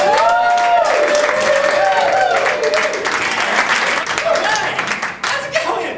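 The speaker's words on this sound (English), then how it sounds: "Please give a loud, borderline troubling round of applause to Vegas Lancaster, everyone." A comedy club crowd gives a stand-up comedian loud, sustained applause, with dense clapping, whoops and cheering that stays strong before fading near the end.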